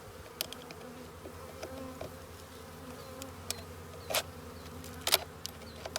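Honeybees buzz around a wooden hive box, a steady low hum with occasional sharper passes as single bees fly close to the microphone.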